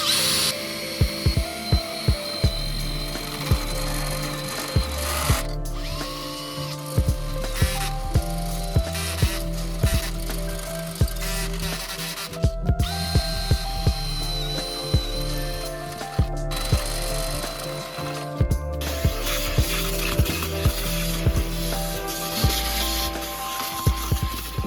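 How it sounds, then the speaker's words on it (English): A power drill with a long drill bit extension whirs in repeated bursts while fitting a roll bar in a Mazda Miata, with ratcheting, grinding mechanical noise between, steady and close, no voices. "I can't really fit my drill in there, so I got this long drill bit extension."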